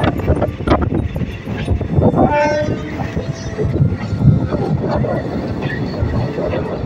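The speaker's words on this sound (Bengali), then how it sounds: "স্টেশন চৌড়িগাছা ঢুকছে এখন।" Azimganj–Katwa local train pulling into Chauri Gachha station during flooding in West Bengal, a rumbling, clattering roll with brief squeals and tones, heard under a moderate background of voices.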